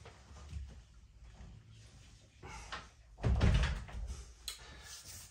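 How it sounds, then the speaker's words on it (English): A house's back door swings and thuds shut once, fairly close, with a brief rattle after the impact in a quiet, slightly echoey room. "I'm gonna shut the back door."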